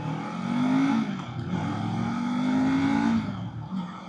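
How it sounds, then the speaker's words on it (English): 2024 Kawasaki Z500 motorcycle engine revving hard on downshifts, a loud, steady drone whose pitch swells and sags across two long rises with no talk over it. "I'm over revving it a little bit on these downshifts."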